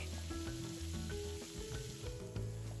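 Shrimp sizzle in melted butter in a hot pan, a close, continuous crackling hiss with faint stirring and scraping under it.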